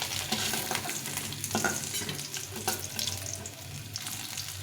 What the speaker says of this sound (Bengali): তো বন্ধুরা এভাবে মাছগুলো ভেজে নিলাম